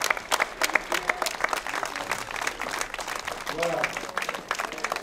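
Audience applause at a prize-giving ceremony closing a 2019 art event, steady dense clapping from a crowd throughout, with some voices mixed in.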